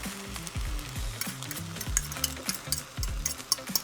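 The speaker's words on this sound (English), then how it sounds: "gently stir for about 7 minutes" Three beaten eggs being stirred in a frying pan for fried rice, with repeated scraping and stirring strokes over a low sizzle, close and steady.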